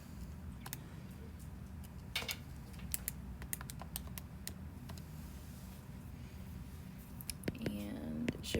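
Calculator keys are pressed in a quiet room during a trigonometry math lesson, a series of light, close clicks spaced irregularly with faint room noise beneath.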